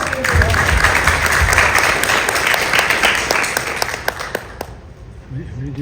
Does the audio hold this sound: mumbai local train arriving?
no